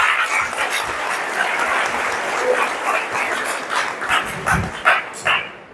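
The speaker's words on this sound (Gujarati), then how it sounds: "એકવાર જોરદાર તાળી હેની માટે પણ પડી જાય" An audience breaks into loud, sustained clapping for a student named Heni at a soft-skills workshop closing ceremony, a dense rattle of many hands that swells and breaks into scattered claps near the end.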